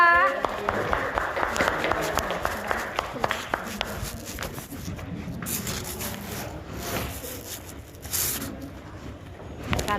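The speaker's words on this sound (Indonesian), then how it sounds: "Tepuk tangan dulu untuk kelompok 2." Students in a classroom clap for a presenting group, a short patter of hands early on that gives way to shuffling, movement and background voices.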